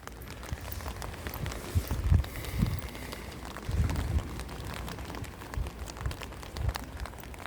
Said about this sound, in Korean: 지금 빗소리 들리시죠?